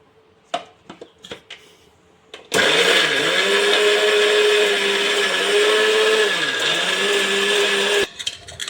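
A mixer grinder whirs loudly and continuously for several seconds, grinding onion with a little water into a smooth paste, its motor pitch dipping slightly as it churns, after a few soft knocks at the start.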